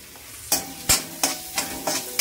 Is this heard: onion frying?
yes